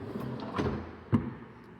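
A soft-close kitchen cabinet door in a home pulls shut with a muffled thump near the end, preceded by a faint knock and low room noise, quiet and close by.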